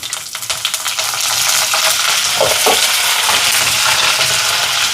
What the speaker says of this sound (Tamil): இப்போ எண்ணெய் சூடாயிட்டு கடுகு கொஞ்சமாக சேர்க்குறேன்